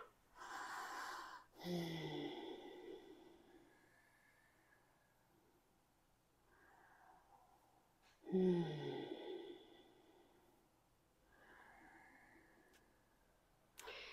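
Deep breathing during a live yoga class, slow audible inhales and long exhales in a few separate breaths with quiet stretches between them, close and fairly soft.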